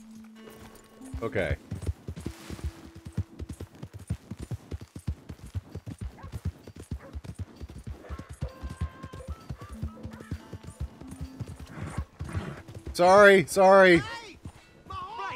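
Horse hooves clip-clopping steadily in Red Dead Redemption 2, a continuous trotting rhythm under brief spoken words, with a loud whinny near the end.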